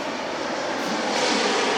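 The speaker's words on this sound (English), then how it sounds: "Oh, that's still a small prop plane." A small propeller plane passes overhead with a steady, loud engine drone that fills the short moment without a break.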